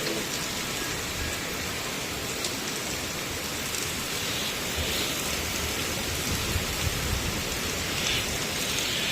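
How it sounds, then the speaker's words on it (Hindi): Heavy rain pours steadily over a farm home in India, a dense, loud, unbroken hiss of drops drumming on surfaces with no voices. "एकदम से तेज़ बारिश हो रही है, बहुत तेज़ हो रही है बारिश।"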